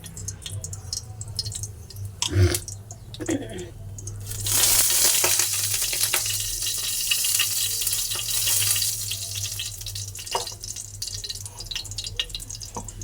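Nigella seeds fry in a little oil in a wok, starting with a couple of light metallic clinks, then a bright, crackling sizzle that swells for several seconds and settles into a quieter, steady fry.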